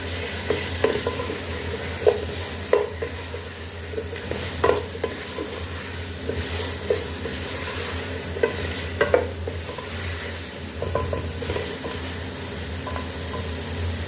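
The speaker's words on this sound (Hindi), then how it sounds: "अब इसमें आलू डाल देंगे और इसको अच्छे से मिक्स कर लेंगे।" Potatoes stirred into roasted spices for tinda aloo curry, scraping and clanking with a spoon in repeated strokes over a steady low sizzle, close and fairly loud, with no talking.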